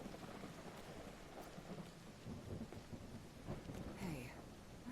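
Rain falls steadily in the Call of the Elder Gods video game, a faint hiss of drops with low rumbles of thunder rolling underneath, quiet and continuous with no talk.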